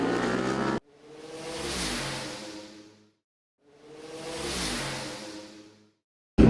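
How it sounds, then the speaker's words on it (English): Superbikes from the Bridgestone Challenge and Sub-10 classes race at Zwartkops Raceway, two loud pass-bys each swelling and fading away in turn, with a short pause between them. "Let's bring on the noise with the Bridgestone Challenge and Sub-10 Superbikes."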